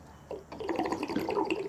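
Water gurgles and trickles softly into a homemade automatic waterer bottle as it slowly fills under vacuum, a faint, close, continuous bubbling.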